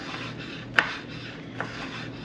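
A kitchen knife slices through food and strikes a cutting board once with a crisp knock. A second, fainter tap follows shortly after, in an otherwise quiet room.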